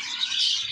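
Pet budgerigars and cockatiels in a home aviary give a brief burst of high, bright chirping, a dense twittering flutter of several birds at once.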